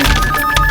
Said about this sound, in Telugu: ఫోన్ వస్తుందండి